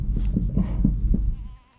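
Several goats, including male goats kept for backpacking, bleat in quick succession at close range, a run of short wavering calls that fade out near the end.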